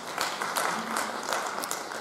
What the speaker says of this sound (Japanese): 拍手ありがとうございます。